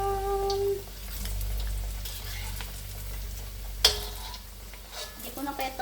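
Pork belly frying in a pan, with steady sizzling and crackling oil, occasional stirring clatter and a sharp clank near the middle, in a home kitchen without speech.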